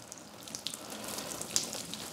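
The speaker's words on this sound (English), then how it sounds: "Last thing to do, water the tree down," A bonsai Australian red gum, freshly planted in a pot with moss on top, is watered down, giving a steady close splashing and trickling of water with small drips and spatters and no talking.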